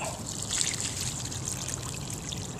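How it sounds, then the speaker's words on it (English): Water trickles and splashes steadily out of an aluminum casting container, a close, continuous pour with no talk. "And we're gonna pour this water out."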